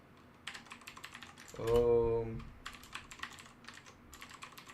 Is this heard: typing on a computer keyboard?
yes